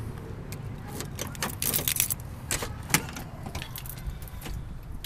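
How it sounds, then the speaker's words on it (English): A set of car keys jangles in short, bright metallic bursts near the microphone, clustered around the middle of the clip over a low, steady rumble of background noise. "Alright, got the keys."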